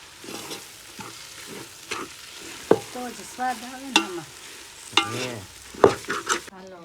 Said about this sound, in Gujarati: હવે પૌવા બટેટા જે મિક્સ કર્યા હતા ને આમાં મિક્સ કરી દેવાનું ધીમે ધીમે અને એક હાથે હલાવતું જવાનું